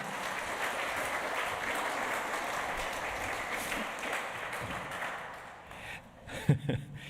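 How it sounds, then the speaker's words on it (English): A church congregation applauds after a sermon talk, a soft, distant-sounding patter of many hands that holds steady, then thins out, with a few louder bumps and movement at the end. "I think a big round of applause for Pat."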